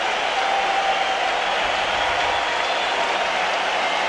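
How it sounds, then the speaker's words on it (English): A baseball crowd at a 1996 Braves versus Expos game in Montreal cheers and applauds, a steady dense roar of clapping and voices filling the ballpark, constant and loud without breaks. "The crowd on their feet here."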